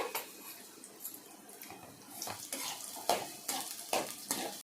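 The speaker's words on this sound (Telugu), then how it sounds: "పచ్చిమిర్చి ఎర్రగడ్డ వేస్తున్నానండి" Green chillies and onion go into hot oil in a kadai, giving a soft sizzle under clattering pan and spoon sounds as they are stirred, close and fairly quiet.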